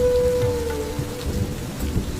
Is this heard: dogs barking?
no